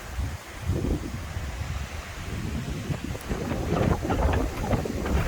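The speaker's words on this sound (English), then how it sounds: "Got a little bit of wind going." Gusty hurricane wind from Hurricane Nicole buffets the microphone outdoors, a steady roaring rush with louder surges and rustling debris, no voices.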